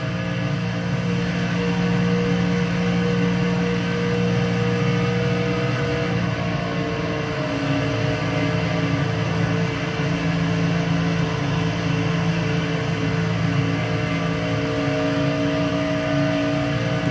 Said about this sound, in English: Let you hear how I back out of it a little bit, roll into the turn, let it float off, get back full throttle.